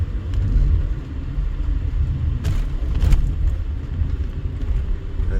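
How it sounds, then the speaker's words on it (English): Car traffic passes on the far side of a road in Las Vegas, a steady low rumble of engines and tyres with a couple of brief whooshes as vehicles go by. "now we've got traffic on the other side"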